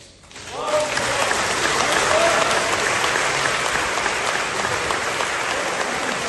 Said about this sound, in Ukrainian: Ну а зараз повинні бути аплодисменти.